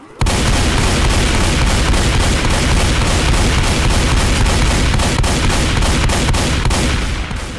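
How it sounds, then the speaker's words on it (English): Tactical shotgun fire in the Left 4 Dead 2 video game, dense and continuous booming blasts mixed with chaotic combat noise, loud and sustained throughout with no pauses. "There's a tactical shotgun right here."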